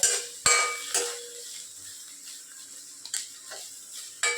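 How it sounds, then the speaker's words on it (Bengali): A spoon scrapes and knocks against a kadai as food is stirred, giving a few sharp metallic clanks with quieter scraping between them, close by and without talk. "কড়াইয়ে দিয়ে দিচ্ছি এখন একটু নাড়ানাড়ি করে নিবা"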